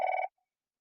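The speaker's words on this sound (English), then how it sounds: "excuse the phone ringing." A telephone bell gives a single short ring, loud and clear, cutting off abruptly into silence.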